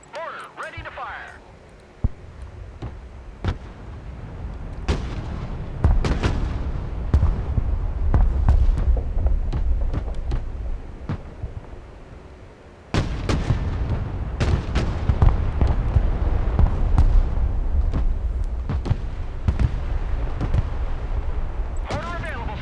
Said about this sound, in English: Mortar ready to fire.